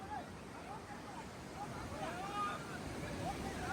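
Sea waves crashing and splashing onto a small fishing boat at sea, a rushing, windy wash of water with the boat creaking, while people shout and talk excitedly over it.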